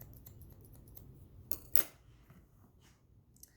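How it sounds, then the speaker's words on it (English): Scissors snip a few quick point cuts into the ends of long hair, faint close clicks with one sharper metallic snip against a quiet room. "maybe I just point cut a few more pieces in there"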